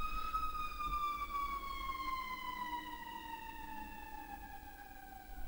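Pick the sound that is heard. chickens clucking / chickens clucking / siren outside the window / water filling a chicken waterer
siren outside the window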